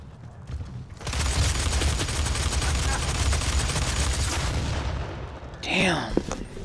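Video game gunfire rattles on as one dense, sustained stream of rapid shots for several seconds, then cuts off and a voice speaks briefly.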